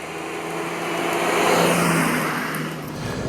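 A 2017 Kia Picanto engine accelerates uphill, its whine and road roar swelling to a peak and then easing slightly, steady and fairly close.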